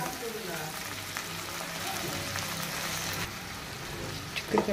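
Washed broad beans are added to a pan of frying onions and tomato, producing a constant sizzling hiss with occasional stirring rattles and a few clanks near the end, heard close up while a voice talks over the cooking.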